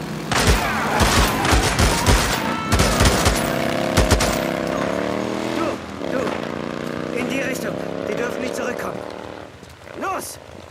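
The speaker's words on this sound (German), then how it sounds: "Schüsse gehört." Rapid bursts of gunfire in the video game Days Gone crackle loudly in the opening seconds, followed by a sustained droning engine-like tone with sporadic sharper pops later.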